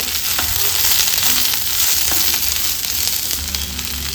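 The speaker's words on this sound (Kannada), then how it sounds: "ಫ್ರೈ ಮಾಡಿಕೊಂಡು ಆಮೇಲೆ ಪುದೀನ ಸೊಪ್ಪನ್ನು ಹಾಕ್ಕೊಂಡು ಫ್ರೈ ಮಾಡಿಕೊಂಡ್ರೆ ಆಯಿತು" Coriander stems and mint leaves sizzle in hot oil for goat head curry, a steady loud frying hiss with a few faint stirring scrapes throughout.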